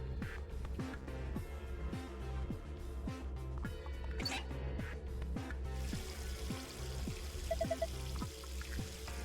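Water pours and trickles steadily from a tap into a sink or wash basin in the video game Virtue's Last Reward, a quiet continuous flow under a faint rhythmic thumping background, with no voices.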